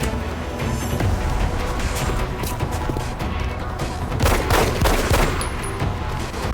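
Gunfire in the strategy video game XCOM: Enemy Within, a dense burst of shots and crashing impacts running steadily throughout, loud and close with a heavier flurry near the end.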